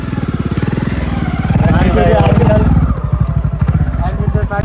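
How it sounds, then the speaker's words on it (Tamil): Motorbikes ride along a forest trail in Nepal, their engines chugging in a steady close drone that rises and falls as they move, with people talking over the engine noise. "காட்டுக்குள்ளே பாருங்கள் எப்படி பைக்கில் போகிறாங்கன்னு சொல்லிட்டு"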